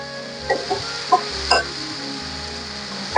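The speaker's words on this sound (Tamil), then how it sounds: "2 தக்காளி கட் பண்ணி வச்சிருக்கேன். நல்லா வதக்கணும்." Cut tomatoes sautéing in a pan while an egg curry is being made, a soft sizzle broken by a few clinks and scrapes of stirring, with a low hum in the background.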